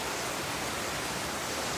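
Heavy downpour during a cyclone-like storm, heard briefly as a steady, unbroken wash of broadband hiss without speech.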